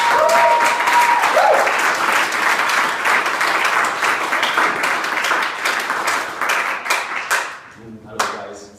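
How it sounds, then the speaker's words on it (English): A TEDx audience breaks into warm, dense applause that holds steady for about seven seconds and then thins out, just before a voice begins to speak. "Please give a warm applause."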